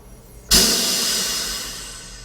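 A sudden loud hiss of a MiG-15 jet fighter's pneumatic brakes bursts in and slowly fades over about two seconds, close and alone.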